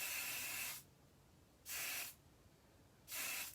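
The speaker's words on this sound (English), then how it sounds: "I'm going to take the Max Hold hairspray and spray this right on top" Max Hold hairspray sprayed onto hair in three separate long hissing bursts from an aerosol can, each under a second, close and clear, with quiet pauses between.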